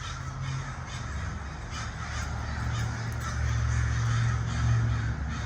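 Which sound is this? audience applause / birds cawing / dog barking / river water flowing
birds cawing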